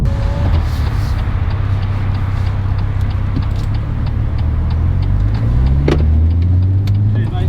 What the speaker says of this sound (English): All you hear is a bit of the road noise, and that's it.